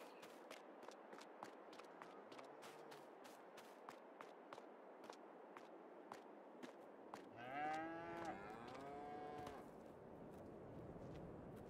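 Cattle moo in a Farming Simulator 22 dairy shed holding around a hundred cows, with a loud drawn-out moo standing out midway over steady clattering hoof steps and barn noise.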